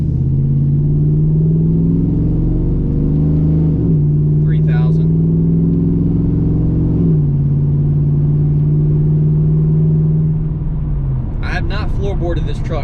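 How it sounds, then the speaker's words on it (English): A truck engine holds a steady mid-throttle drone, rising in pitch through several gear changes with a loud, continuous rumble before easing off near the end. "All right, we'll do a little mid-throttle acceleration here."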